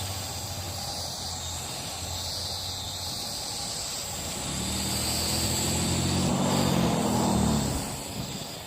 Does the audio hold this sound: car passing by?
yes